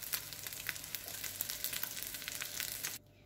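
Food frying in a pan for a soup, a steady crackling sizzle with scattered pops throughout that stops abruptly near the end, with no talk.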